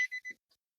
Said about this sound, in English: Let me kill that beeping.